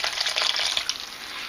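Water from a kettle pours steadily into a pan of stewing chicken madras curry, a continuous splashing hiss that stays loud and close for the whole moment with no talking.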